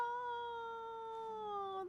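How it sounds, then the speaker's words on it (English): A domestic cat gives one long, drawn-out meow close by, steady in pitch and sliding slightly lower before it cuts off, with no other sounds around it. "Oh, that's my cat."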